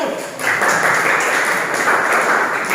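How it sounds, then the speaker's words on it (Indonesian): A classroom of students applauds a student group after its presentation, a dense, steady burst of clapping close by that continues throughout. "Tepuk tangan untuk kelompok 1."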